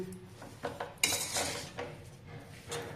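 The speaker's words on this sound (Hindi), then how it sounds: "डाल करके इसको अच्छी तरह से मिक्स कर लेते हैं।" A spoon stirs a sweet almond mixture with soaked saffron milk in a bowl, giving a few scraping clinks of metal against the dish, close and fairly soft, with a louder burst of rattling near the middle and no talk.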